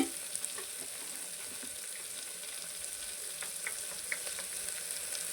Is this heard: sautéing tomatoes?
yes